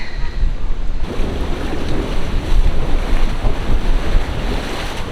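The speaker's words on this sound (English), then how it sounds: "we've got a lot of water coming out of this side" Water rushes loudly and steadily out of a canal lock on the Grand Union beside a narrowboat, a broad continuous roar mixed with gusty wind buffeting the microphone.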